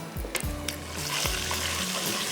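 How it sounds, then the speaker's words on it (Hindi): Ginger, garlic, white cumin seeds and whole red chilies fry in hot oil in a pan, giving a steady close sizzle with a few stirring scrapes and no talk. "अदरक लहसुन 1 टेबलस्पून भर के, 1 चाय का चम्मच सफ़ेद ज़ीरा और साबुत लाल मिर्चें 4-6 डाल दीजिए।"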